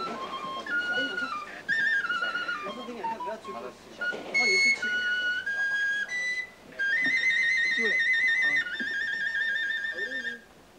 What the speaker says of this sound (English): There was a flourish of penny whistle Percy grandeur.